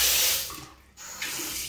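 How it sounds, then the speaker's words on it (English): Bathroom sink tap runs with a steady hiss of flowing water that briefly drops away, then resumes at a similar level. "Tap running fine."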